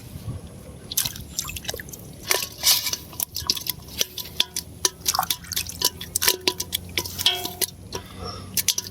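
Water splashes and drips while something is being washed beside a river on a fishing outing: irregular wet sloshes, squishes and light clatter, close and fairly loud, with no talk.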